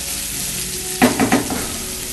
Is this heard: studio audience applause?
no